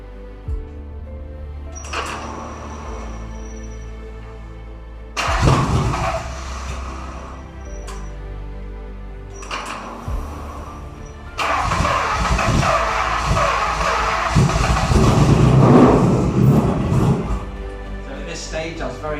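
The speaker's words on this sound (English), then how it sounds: "So with all that work done, we're ready to test the engine for the first time." A Pagani Zonda V12 engine cranks and fires repeatedly, with several short starter bursts and stumbling catches between pauses, then settles into a rough, loud idle, with some talking around it.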